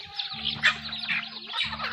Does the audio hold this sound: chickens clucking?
yes